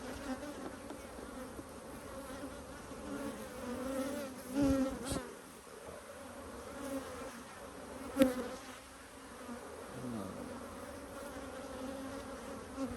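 Honey bees buzz around their hive in a steady, droning hum, with individual insects swelling louder as they pass close, a few sharp bumps breaking the buzz.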